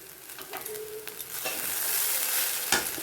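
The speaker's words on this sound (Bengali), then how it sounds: "এবার একটু ভালো করে নেড়ে দেবো।" Rice seasoned with salt, nutmeg and garam masala is stirred in a pot, giving close scraping and soft clinks over a low sizzle that swells midway, with one sharper knock near the end.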